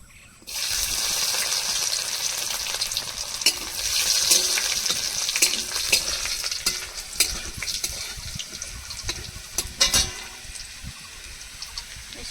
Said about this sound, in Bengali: শুকনো লঙ্কা তেজপাতা আর কিছুটা রাঁধুনি এবার দিয়ে দেবো কিছুটা থেতো করা রসুন